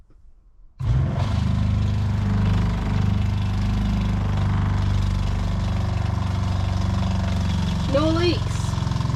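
A pump for a hot water system starts abruptly after a moment of quiet, then runs with a loud, steady mechanical hum, with a voice briefly heard over it near the end.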